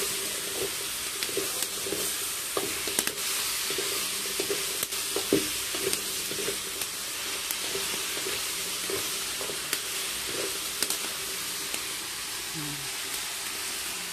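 Squash and string beans sizzle and fry in a pan, a steady hiss broken by scattered clinks and scrapes of stirring, close and moderately loud.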